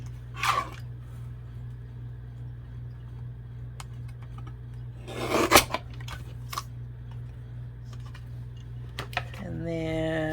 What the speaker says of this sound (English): I think I'm just gonna cut it right where that stamp is